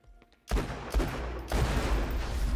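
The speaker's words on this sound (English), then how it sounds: "That was a big-ass explosion!" A sudden loud blast in Borderlands kicks off a rumbling barrage of booms and crackling gunfire-like bursts, sustained and dense, with a second heavy hit midway.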